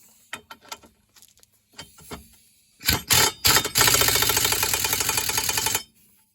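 A ratchet socket wrench tightens a hay mower blade, giving a few scattered clicks and then a loud, steady rapid ratcheting burst lasting several seconds.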